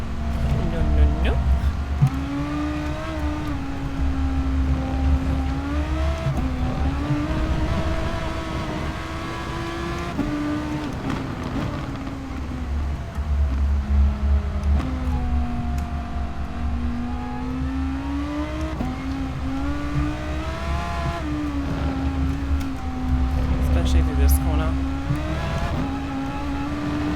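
Race car engine in Gran Turismo Sport at Spa, droning and rising and falling in pitch through gear changes under light throttle, loud and continuous throughout.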